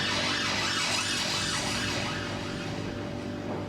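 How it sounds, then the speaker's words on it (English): An ambulance siren passes outside with a steady wailing up-and-down sweep, loud and continuous over traffic rumble, and no voices are heard over it. "ambulance going past."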